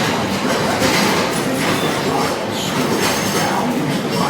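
The Walt Disney World Railroad train rolls steadily along the rails toward Frontierland Station, a loud continuous rumble with rhythmic clatter heard from on board.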